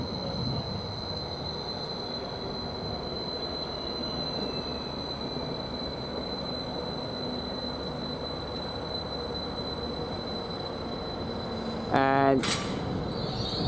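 Class 755 train, unit 755-403, passing through Bury St Edmunds station: a steady rolling rumble with a high tonal whine throughout, then a brief louder burst of clatter near the end.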